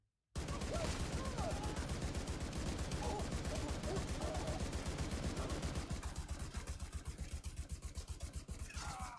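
Rifle fire in the video game The Division 2, a rapid, unbroken stream of loud, evenly spaced shots that starts abruptly and continues for about nine seconds.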